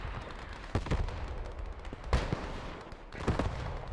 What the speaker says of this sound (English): this is both teams calling artillery on cap